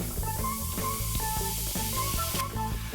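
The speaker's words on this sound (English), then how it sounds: "Okay, so we have this green fizz." Green liquid fizzing in a plastic cup of water from a Treasure X Monster Gold toy, a dense continuous hiss and crackle of bubbles heard up close for the whole stretch, with no talking.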